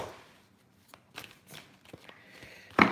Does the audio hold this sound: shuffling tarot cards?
yes